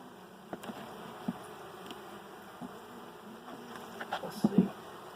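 Honeybees buzz softly during a hive inspection, a low continuous drone with a few louder passes near the end and some faint handling knocks.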